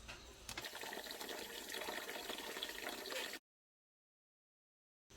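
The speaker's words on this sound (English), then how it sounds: "So I'm just rinsing the rice in cold water to remove any impurities" Rice being rinsed in cold water, a steady close wash of running and sloshing water that cuts off abruptly partway through.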